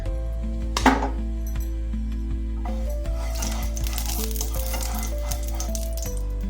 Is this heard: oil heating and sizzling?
yes